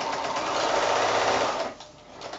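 A sewing machine runs steadily as quilt squares are chain pieced with a quarter-inch seam, a close, continuous rapid stitching hum that slows and eases off near the end.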